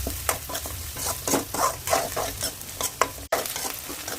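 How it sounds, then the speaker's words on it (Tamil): Finely chopped onions and a sprig of curry leaves fry in a pan, sizzling under rhythmic scraping stirs with one brief pause, close and fairly quiet. "ஒரு கொத்து கருவேப்பிலை சேர்த்து நம்ம இதை நல்லா வதக்கி விட்டுக்கலாம்."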